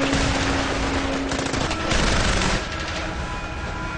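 Sustained battlefield gunfire in a firefight with al-Qaeda fighters, a dense continuous roar of rapid automatic bursts that swells briefly louder midway and then eases slightly, with no voices over it.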